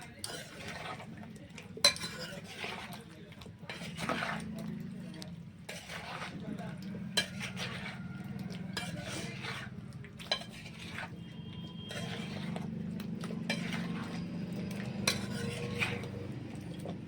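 Young jackfruit pieces being mixed by hand with salt and a little mustard oil in a bowl: soft squelching and stirring with scattered clinks against the bowl, steady and close, a low hum running underneath.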